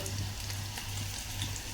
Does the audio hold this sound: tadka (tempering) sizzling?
yes